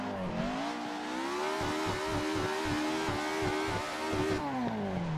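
A car's engine in the Assetto Corsa racing game, with a buzzy, harmonic-rich tone that rises and falls as it revs and sits bouncing against its limit, steady and close throughout with no voices.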